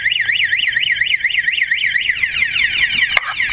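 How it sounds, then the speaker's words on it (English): A loud anti-theft alarm on a 2018 Brozz 250 motorcycle warbles rapidly up and down, then switches to a sweeping pattern before a sharp click near the end. "So yes, this bike has a very sensitive alarm."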